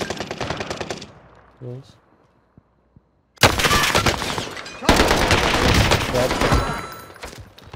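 Gunfire in Warzone on the Caldera map, loud rapid automatic bursts that cut off into a near-silent gap, then resume as long dense volleys; a voice speaks briefly between them.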